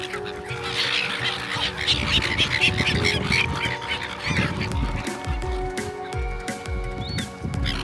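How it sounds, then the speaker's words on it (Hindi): Ducks quack and honk repeatedly at Semaphore Beach in Adelaide, their calls fairly close and overlapping, with steady crowd chatter and ambient beach noise underneath. "ये डक्स बहुत ही इनोसेंट और प्यारी लग रही थी।"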